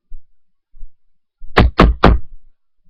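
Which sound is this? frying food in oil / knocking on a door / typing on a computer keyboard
knocking on a door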